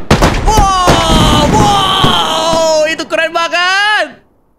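Firecrackers and fireworks going off in the Fireworks Mania game during a New Year celebration: sharp pops and loud bursts up front, then a whistling, droning tail that fades out, with voices over the top.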